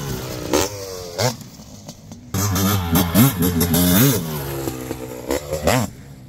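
A 2024 GasGas 500cc dirt bike engine, tuned by Keith Peterson Racing, revs hard in repeated sharp bursts at a free-ride compound, loud and close, with crisp rising and falling pitch and brief lulls between blips.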